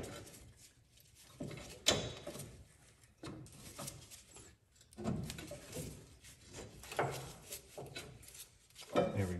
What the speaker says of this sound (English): So this bolt, I'm gonna push from the bottom here.